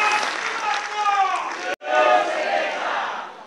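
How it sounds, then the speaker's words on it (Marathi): A dense burst of audience applause at a public interview event, with crowd clapping and cheering filling the space, broken by a brief drop midway before continuing. "जरा जोरदार टाळ्या"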